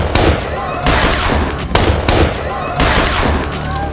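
Gunfire in a heist film scene where a robber shoots a police officer, loud repeated bursts of shots in quick clusters with echoing tails.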